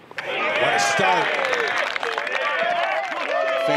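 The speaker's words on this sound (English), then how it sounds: "Fans out there cheering for him." Golf gallery cheering and clapping for Max Homa's opening-hole birdie at the 2022 Wells Fargo Championship, a sustained loud wash of applause and whoops from a large crowd lasting throughout.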